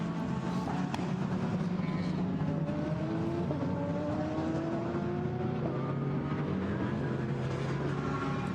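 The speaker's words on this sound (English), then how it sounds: "Looking for the car as it comes past our window. It's just done so now." GT race car passing the commentary box window during qualifying at the Nürburgring, its engine note rising and sweeping past with shifting pitch, heard through glass at moderate loudness over a continuous engine drone.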